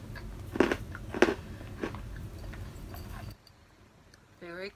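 Loud crunchy bites and chewing of a Japanese snack close to the mouth, with a few sharp crunches early on, then quieter chewing and a brief murmured sound at the end.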